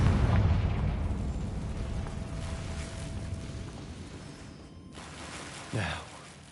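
A Confringo blasting spell goes off in Hogwarts Legacy, a heavy explosive boom at the start that rolls and decays over several seconds, followed later by a short sharp burst.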